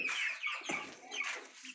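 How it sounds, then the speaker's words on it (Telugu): Hens and chicks cluck and cheep close by in a short, busy burst of overlapping calls on a breeding poultry farm. "ఇవన్నీ పెట్టలు."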